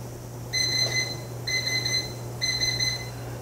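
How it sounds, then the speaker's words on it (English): An electric pressure cooker's timer signals the end of cooking with three evenly spaced bursts of bright, rapid electronic beeps, each lasting about a second, over a steady low appliance hum with no talking. "we hear the beep and we know that it's done"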